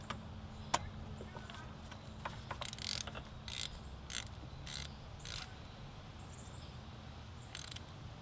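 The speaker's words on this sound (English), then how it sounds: "Then we'll torque it down the rest of the way with a ratchet." Ratchet torquing a spark plug into a BMW N62 V8 engine, a few short quiet clicking bursts spread across the clip over faint background hum.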